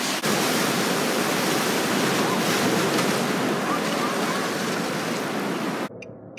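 Ocean waves break at a beach in a loud, continuous wash of surf that stays steady until it drops away abruptly near the end.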